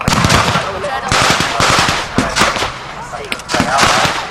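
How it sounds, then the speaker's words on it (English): Rapid bursts of airsoft gunfire from both sides during a regional airsoft competition, loud and close, with sharp repeated cracks overlapping in an uneven, continuous volley. "There's some fire from both sides."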